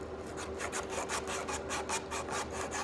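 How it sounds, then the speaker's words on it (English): Sandpaper backed with duct tape pulled back and forth around a wooden spindle on an 1800s platform glider, a steady rhythmic rasp of rapid strokes at close range with no talk. "I'm gonna basically take my sandpaper and my duct tape, sandpaper obviously against the spindle, and I'm gonna wrap it around"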